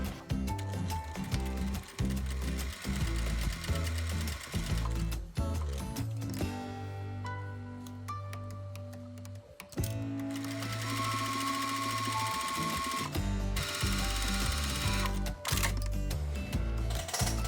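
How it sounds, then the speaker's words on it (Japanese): A sewing machine stitches through layered fabric while a stretch of a garment is sewn, running steadily with brief pauses and changes of speed, loud and close, with no talking. "ここをこんな感じでカックンとステッチをかけて留めていきます。"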